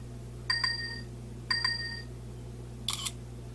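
Self-timer countdown on an ASUS ZenPad S 8.0 tablet's front camera: two evenly spaced electronic beeps about a second apart, then a brief bright shutter click, all over a steady low hum with no talking.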